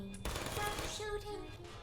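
Rapid bursts of automated turret gunfire from the video game Portal 2 rattle in a dense, continuous volley, fairly quiet overall, with faint voice-like tones mixed in.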